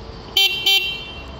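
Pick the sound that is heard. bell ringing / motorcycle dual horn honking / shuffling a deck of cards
motorcycle dual horn honking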